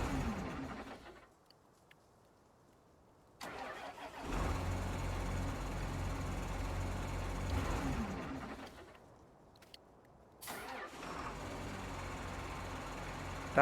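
Vehicle engine in the video game Farming Simulator 19 starting and running with a steady, fairly deep rumble, cutting out and restarting a couple of times, alone and moderately loud.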